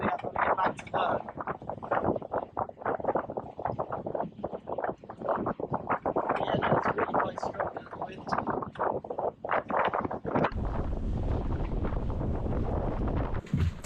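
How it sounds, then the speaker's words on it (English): Strong wind buffeting the microphone, roaring and gusting continuously, with a steadier rush in the last few seconds and a voice briefly audible underneath. "It's quite flat, but quite windy"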